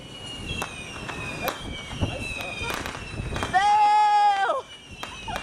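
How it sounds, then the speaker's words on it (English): Fireworks set off on a beach make scattered sharp pops and crackles, with a brief bleating cry and people talking nearby. "There's something here shooting fireworks."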